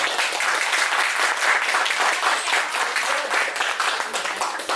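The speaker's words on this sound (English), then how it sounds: "Please clap your hands." Sustained applause from a crowd at a company kick-off meeting, many people clapping hands in a dense, even roar that stays loud throughout.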